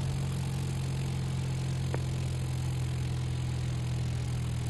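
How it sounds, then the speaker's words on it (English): A steady droning aircraft engine hums at idle power in a flight simulator game, constant and even with a low tonal rumble throughout. "I'm going to pull the power all the way to idle."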